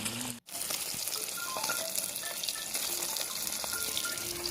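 Fish frying in hot oil in a pan on a home stove, a steady bright sizzle and crackle running the whole time, close and fairly loud, with one brief dropout near the start.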